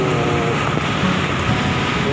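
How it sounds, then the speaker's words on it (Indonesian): Heavy monsoon-season surf pounds the shore at Tanjung Lobang, Sarawak, with waves two to six meters high, heard as a loud, unbroken roar of crashing water mixed with strong wind buffeting the microphone. "Ini keadaan ombak dekat Tanjung Lombang ni di Sarawak."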